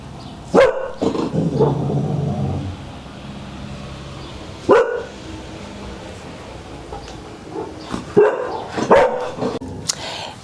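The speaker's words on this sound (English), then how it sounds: "Right, the dog's going to bark." Several sharp dog barks ring out near the front of a house, coming in a burst at the start, a lone bark midway and a cluster toward the end, with quieter whimpering between them.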